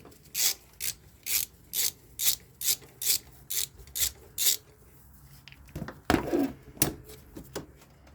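A ratchet wrench with a 12 mm socket works on a 2010 Nissan Maxima during alternator removal: about ten quick, evenly spaced ratcheting bursts up close, then a pause and a few scraping, rubbing clicks.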